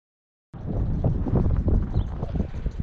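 Wind buffets a microphone outdoors at a home property where a dirt pad is being extended, a loud, rumbling, low roar that starts abruptly after half a second of silence and continues unbroken.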